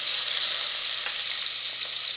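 Garlic, onion and bell pepper fry in a pan with a steady, close, continuous sizzle and faint crackles throughout, no voices.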